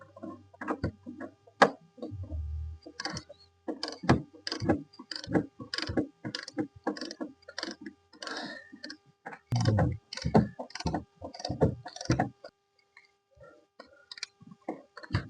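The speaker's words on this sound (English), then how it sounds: "Let's get those bolts loosened and let's get the bumper off." Bumper bolts come loose on a Volkswagen Citi Golf being stripped, with rapid, crisp ratchet-like clicks arriving in quick irregular bursts. The clicking is close and fairly quiet, and it thins out toward the end.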